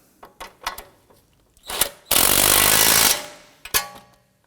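A power tool runs a nut down onto the steering rack of a 2003-2014 Volvo XC90 in one loud, steady burst of about a second, with clinks and clunks of tools before and after it.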